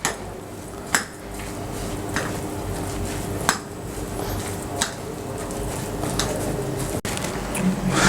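Mayonnaise stirred into chicken burger filling in a bowl: soft, squishy mixing with scattered sharp utensil clinks against the bowl at irregular intervals, moderately quiet and without talk.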